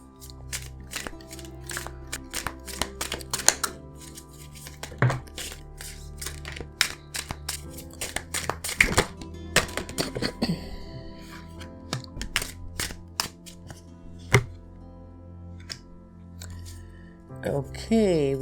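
Tarot cards are shuffled by hand in quick bursts of crisp riffles and taps, some loud snaps among softer rustling, with brief pauses between.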